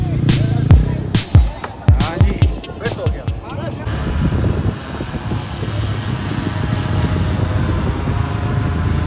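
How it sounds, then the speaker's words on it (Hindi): Quad bike ride in the cold desert of Sarfaranga near Skardu: engine revving and wind rumble with bumps and jolts, first a few sharp knocks then a steady close, loud drone. "यहाँ पे हम लेने लगे हैं क्वाड बाइक की राइड"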